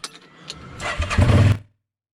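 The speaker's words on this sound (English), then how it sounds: "start the machine and listen to the engine" A side-by-side utility vehicle's engine cranks briefly, catches and fires up into a short rough rumble, then cuts off abruptly.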